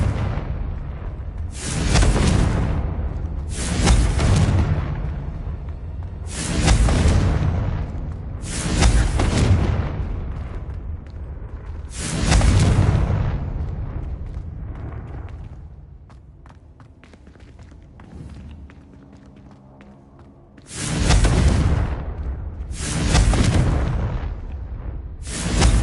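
A run of loud, booming Confringo blasting-curse explosions from Hogwarts Legacy, heavy close bursts arriving in quick clusters, some back to back, with a quieter lull before a final pair of blasts.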